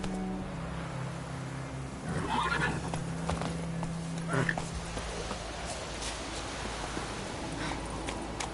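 Roach, the horse in the video game The Witcher 3: The Wild Hunt, gallops with steady rhythmic hoofbeats over a low in-game ambient bed. A brief whinny and snorts rise midway.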